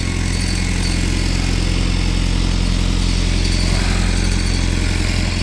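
A tractor engine runs nearby, giving a loud, continuous mechanical drone with a steady idling chug and no voices.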